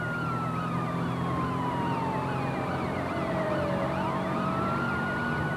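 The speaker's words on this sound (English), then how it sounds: "They keep their siren wailing to warn other road users of impending danger" A police siren wails continuously, its pitch sweeping up and down, loud and unbroken with traffic noise underneath.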